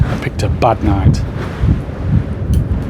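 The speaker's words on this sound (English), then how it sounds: "there's a load of wind coming through here" Strong night wind buffets the microphone at The Great House in heavy low rumbling gusts, with a voice briefly exclaiming over the roar.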